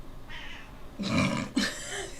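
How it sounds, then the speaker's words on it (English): A cat meows twice in quick succession, a short close cry followed by a second brief call, over a quiet indoor background. "Cat!"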